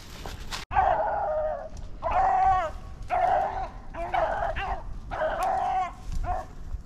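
Rabbit-hunting beagles baying while chasing rabbits through the Pennsylvania brush, five drawn-out rhythmic howling bays at fairly even intervals, moderately close, following one sharp knock at the start.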